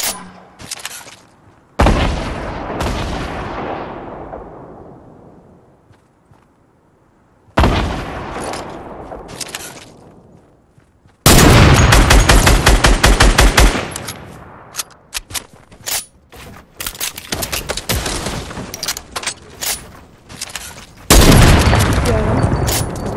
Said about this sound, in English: the guy shooting at you